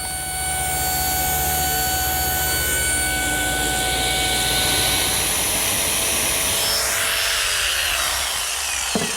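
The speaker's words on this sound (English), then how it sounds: "it should be a carbide tip blade that's specifically designed for cutting these laminates" A saw with a carbide-tipped blade cuts laminate for a kitchen island, a loud, continuous whining drone running steadily throughout and dipping slightly as the cut finishes.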